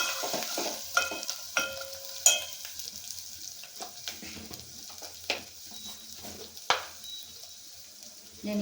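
Ginger garlic paste with turmeric frying in a pan, a steady soft sizzle with a series of sharp scraping clinks from a spoon stirring at irregular intervals, close and fairly quiet.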